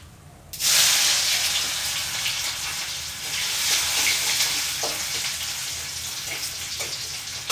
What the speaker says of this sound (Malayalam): നമുക്ക് ഈ കടുക് പൊട്ടി വന്നിട്ട് നമുക്ക് ഇഞ്ചി ഇട്ട് കൊടുക്കാം.